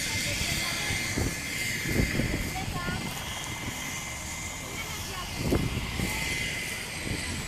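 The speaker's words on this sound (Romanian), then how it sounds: "A venit elicopterul." A helicopter arrives over a road accident scene on the DN 22 near Palazu Mare, its steady rotor and engine roar filling the air, loud and continuous, with people talking at the scene.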